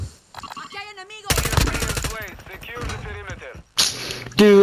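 Quick bursts of dual pistol fire in a first-person shooter video game, brief and sharp, heard amid excited talking from a player.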